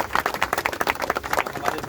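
Audience applause at a Vasundhara Hariyali Mahotsav tree-planting event, welcoming the principal of an Ayurveda college; a steady patter of many hands clapping at moderate distance, with the crowd noise continuing throughout.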